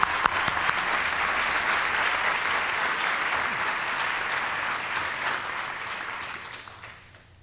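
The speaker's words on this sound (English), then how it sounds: "So let's give a warm round of applause for George John." Sustained applause from a sizable crowd at an awards ceremony, steady and dense clapping that fades out toward the end.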